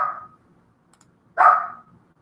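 Chihuahuas indoors give two short, high yapping barks separated by a pause, close and fairly loud, with no talking.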